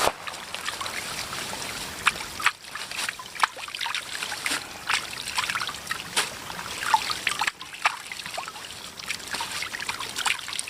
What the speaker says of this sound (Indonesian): belum pernah kita tumis daun singkong nih. Nah, kita cuci dulu.